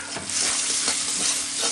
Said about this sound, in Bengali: আলুটা দিয়ে আর একটু ফ্রাই করে নেব।